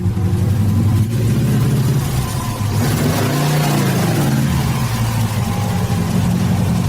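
A Saab car engine, stored in a garage for 30 years, runs loud and close, a steady rough mid-low drone with a brief rise in revs partway through, continuous with no talking.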